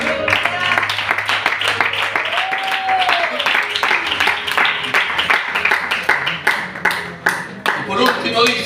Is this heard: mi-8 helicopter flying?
no